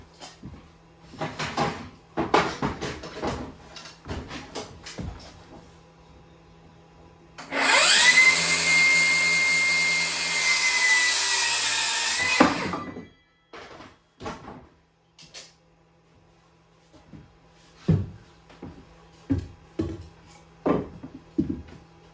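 Power saw cutting timber stud work in a loft conversion: a loud, sustained high whine lasting about five seconds, framed by scattered knocks and clunks of handling wood before and after.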